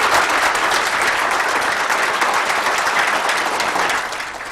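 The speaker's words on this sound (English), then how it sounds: "Now that decision drew a standing ovation in the crowd today." Sustained, dense applause from a crowd giving a standing ovation at a county commission meeting, loud and steady for about four seconds before tapering off slightly at the end.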